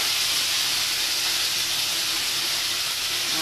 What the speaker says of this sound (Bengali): সাদা জিরে ফোড়ন দেবো, দিয়ে আদা জিরে বাটাটা দিয়ে দেবো।